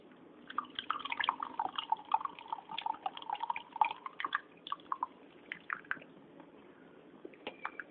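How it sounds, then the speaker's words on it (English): Tamarind water poured into an onion and bachali leaf curry in a pan, with soft, close liquid splashes and bubbling drips in an irregular patter that thins out toward the end. "Just add the tamarind water."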